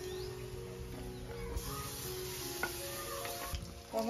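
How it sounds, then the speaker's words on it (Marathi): Tomatoes tipped into sautéed onions in a pan for a village-style garlic fenugreek dish sizzle steadily up close, with light stirring clatter of a spoon running through the hiss. "हे पहा, कांदा छान आपला परतलाय. आता यामध्ये मी घालत आहे टोमॅटो"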